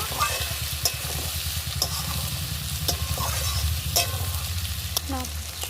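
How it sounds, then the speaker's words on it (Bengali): Beef tripe frying in a pan with chili and turmeric, a steady close sizzle under repeated scraping strokes of a spatula stirring the mixture. "লঙ্কা হলুদ দিয়ে ভালো করে নাড়াচাড়া করে নেব"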